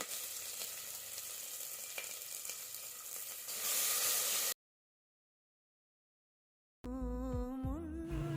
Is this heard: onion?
yes